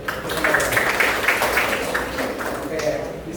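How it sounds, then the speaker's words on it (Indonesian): Classroom applause, a brief spell of scattered clapping from students that rises and fades over a few seconds, with voices mixed in underneath. "Oke, tepuk tangan dulu."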